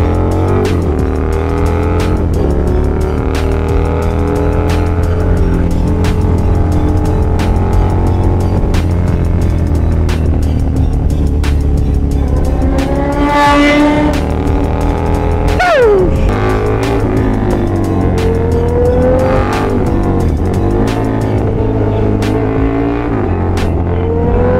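Big motorbikes cruise through the streets late at night, a continuous loud, close engine rumble that swells with a couple of throttle revs and shifting pitch as the ride goes on.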